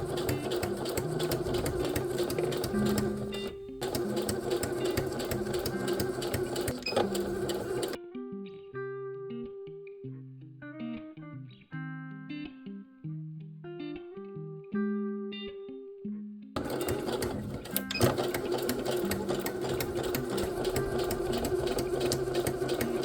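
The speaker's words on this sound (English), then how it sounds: "Now I'm going to sew the sides closed from top to bottom using 3/8 of an inch seam allowance." A sewing machine stitches the sides of a faux leather clutch in long, steady runs of rapid mechanical whirring, close and loud, interrupted by a few short pauses and a quieter middle stretch of soft tonal sound.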